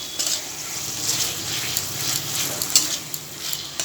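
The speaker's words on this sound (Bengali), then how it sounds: "আলুটা দিয়ে এবার একটু ভালো করে কষিয়ে নেব।" Boiled potatoes hitting a pan with banana flower and sautéing, a dense hissing sizzle with soft stirring scrapes and occasional clinks, close and steady throughout.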